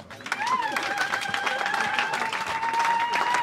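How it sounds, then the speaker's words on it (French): Applause and some cheering from mourners at a funeral gathering honouring a woman who lived to 91, filling the room steadily with tonal crowd sounds running through. "Vos applaudissements, s'il vous plaît"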